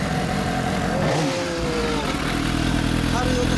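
A 2017 Suzuki GSX-S750 ABS motorcycle engine runs at a steady idle, loud and close, with a faint rising whine passing over it and voices talking faintly underneath.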